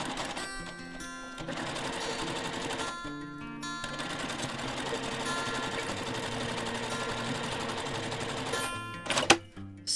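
Sewing machine stitching rows of Moda charm pack squares together for a zipper pouch, a steady close whirring run with brief stops between seams.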